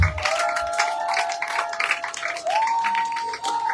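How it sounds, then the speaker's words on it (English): An audience claps for the First Lady at a hospital maternity ward dedication in Liberia, a dense, lively patter of many hands that carries on steadily, with a sustained whistle-like tone running over it. "Are you sure you're clapping for our First Lady? Can you do it better than that?"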